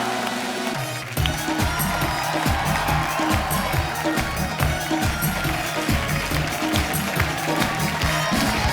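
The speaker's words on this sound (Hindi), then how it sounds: "उनके लिए जोरदार तालियां।" A television studio audience breaks into loud, sustained applause and cheering for an arriving comedian, dense rhythmic clapping filling the room after a brief moment of lower sound.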